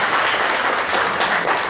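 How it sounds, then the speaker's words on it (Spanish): Steady, dense applause from an audience at a multi-day education seminar in Puerto Bermúdez, loud and continuous throughout with no pauses. "Para ella les pido fuertes aplausos."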